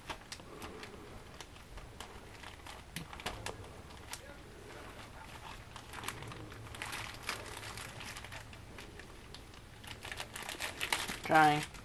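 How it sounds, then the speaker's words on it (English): A plastic bag crinkles and rustles close by as it is resealed and the air pressed out, soft irregular crumpling that swells louder near the end, with pigeons cooing faintly in the background. "Reseal the bag very carefully."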